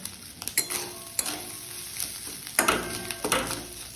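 Crumbled fish roe frying in a kadai while a spatula chops and scrapes it, giving a steady close sizzle punctuated by several sharp scraping strokes.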